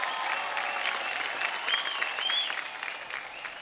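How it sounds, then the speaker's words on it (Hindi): Audience applause for Govinda at the IBFA 2017 Bhojpuri film awards in London, a steady, dense wash of clapping from a large crowd that holds at even strength throughout, with no talk over it. "जोरदार ताली हो गोविंदा सर के लिए"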